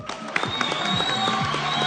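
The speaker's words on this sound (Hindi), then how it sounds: "तालियां बजा दे भाई" Studio audience applause on a live television game show, a short burst of crowd clapping with music tones running underneath.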